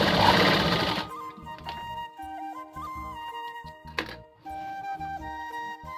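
A sewing machine stitching a lungi gives a short, dense burst of rapid stitching lasting about a second, then gives way to quieter tonal sounds and light clicks.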